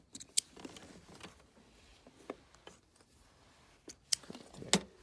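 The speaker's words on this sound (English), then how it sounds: "Cut the thread, cut the thread, cut the thread" Scissors snipping thread while sewing a boned bustier, a few sharp close clicks scattered among quiet handling sounds.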